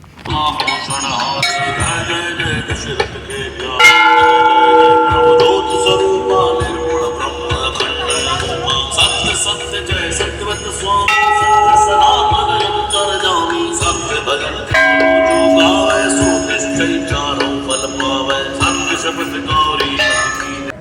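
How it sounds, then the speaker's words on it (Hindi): A bell at a Mata Rani temple rings repeatedly in a steady, bright clang, loud and close, its metallic tones overlapping throughout with no talking. "तो माता रानी को घंटी भेंट कर दी है।"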